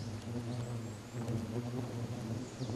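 Hornets buzz around an intruder wearing a protective suit and wig, a fairly faint, steady droning hum of wings that swells and fades slightly.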